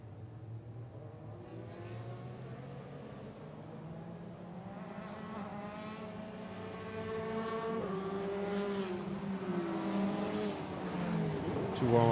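Race cars, including F3 single-seaters on wide slick tyres, run warm-up laps at a circuit race meeting, their engines droning and rising in pitch as they accelerate past, growing louder toward the end.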